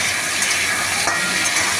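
Potatoes dropped into a pan of elephant foot yam already fried until reddish brown, giving a steady loud sizzle and frying crackle close by with a slight stirring shift partway through, no voices.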